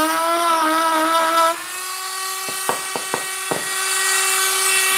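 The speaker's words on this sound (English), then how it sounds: "Cherry doesn't carve too bad" A power carving tool cuts through cherry wood burl with a steady high whine, then bites into the wood several times with short, sharp bursts, close and fairly loud.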